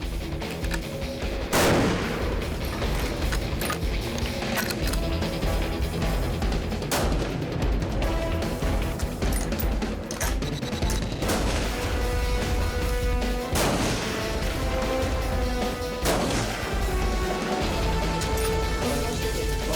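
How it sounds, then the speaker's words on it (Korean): Repeated loud rifle shots crack out at irregular intervals during army sniper night-firing training, each sharp report followed by a ringing echo over a steady background, close by and with no talking. "야간 사격은 고도의 실력을 갖추기 위한 저격수들의 필수 훈련."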